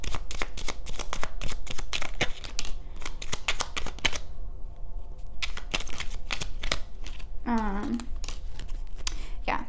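A tarot deck shuffled by hand in a steady run of crisp riffling card flicks, loud and close, continuing for several seconds, with a short swooping sound near the end.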